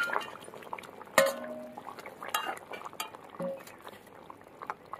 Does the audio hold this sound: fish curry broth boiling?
yes